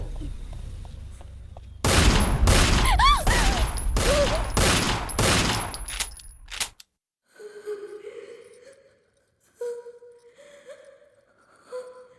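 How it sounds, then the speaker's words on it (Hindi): Gunfire in a Hindi film action scene: a loud sustained burst of rapid shots with echoing cracks for several seconds, then a quieter stretch with faint voices and breathing. "उसे जाने मत देना, गोली से उड़ा दे"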